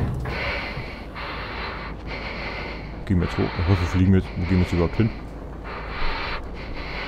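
Characters in the shooter game Wolfenstein II: The New Colossus snort and pant in a series of rhythmic, breathy bursts, heard alongside someone talking over game background noise.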